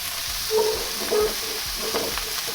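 Pork sizzling in a pan for Shanghai lo mein, a steady soft frying hiss with a few brief stirring bumps, close and moderately quiet with no talking.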